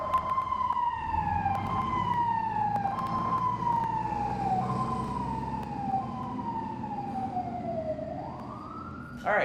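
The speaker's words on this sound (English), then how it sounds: "we were momentarily interrupted by the engine having to take a squad run" A fire engine siren wails in repeated falling sweeps as the engine pulls out on a squad run, loud and close over low engine rumble, with no talking.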